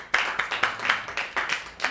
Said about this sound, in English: That's why we're applauding.